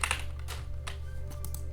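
Rapid clicking of keys on a computer keyboard, a quick cluster of close, crisp keystrokes followed by a few more spaced taps over a low steady hum.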